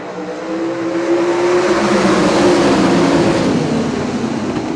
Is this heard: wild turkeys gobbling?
no